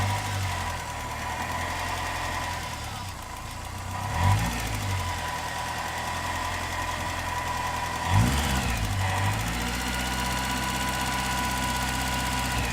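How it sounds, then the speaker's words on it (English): A 2001 Honda S2000 sports car engine idles steadily with a low, slightly rattly rumble, holding constant throughout with a couple of small revs or bumps. "I'll just let it continue idling"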